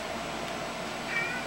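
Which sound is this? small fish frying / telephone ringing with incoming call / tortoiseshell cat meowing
tortoiseshell cat meowing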